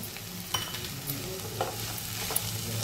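Mixed vegetables with masala are sautéed and stirred in a pan, a steady soft sizzle with a few light clinks of a spoon against the metal.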